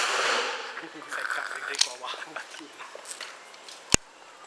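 A single sharp, loud report from a CZ 97B .45 pistol cracks out near the end at a shooting range, following a stretch of nearby talking and shuffling.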